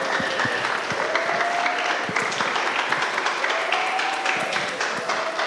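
Young members of a church youth commission give warm applause during a welcome service, many hands clapping steadily at moderate distance with scattered sharper claps and faint murmuring mixed in.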